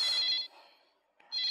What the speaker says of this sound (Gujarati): ઓ બા, ફોન આવ્યો